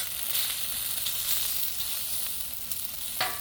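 Vegetables for shrimp lo mein sizzle in oil on a hot Blackstone griddle. The frying hiss is steady and close, with a few sharper crackles and a faint scrape near the end.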